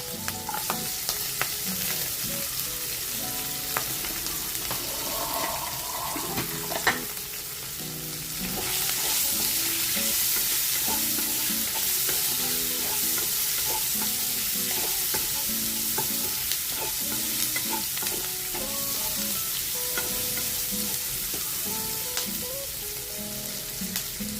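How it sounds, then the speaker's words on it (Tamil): Onion, green chilli and tomato sautéing in a pan for a Chettinad kocchi side dish, with continuous sizzling and frying hiss, louder after a few seconds, broken by repeated scrapes and stirring knocks of a spatula. "தக்காளி நல்லா வதக்கும்"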